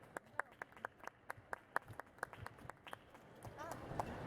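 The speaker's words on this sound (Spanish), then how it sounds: "Un aplauso para ellos." Sparse clapping at a book presentation at an international book fair: a few distinct, evenly spaced claps ring out close by, thinning into scattered quieter claps and faint murmuring.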